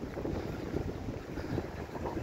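Steady wind blows along the Caspian Sea shore in Baku, a continuous broadband rush buffeting the microphone on a cold day, with no voices.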